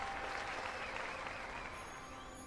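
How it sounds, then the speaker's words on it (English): A sustained wash of crowd applause in an audiobook, dense and steady throughout before easing slightly at the end, heard faintly in the background. "He heard applause."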